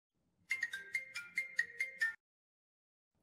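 A phone ringtone for an incoming call from an AI voice agent, a bright repeating electronic melody of about eight quick tones, clear and alone, stopping abruptly after under two seconds before silence.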